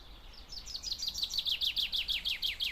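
Small birds sing in a French garden with a quick, repeated series of high chirps in a steady rhythm, moderately close over quiet outdoor background.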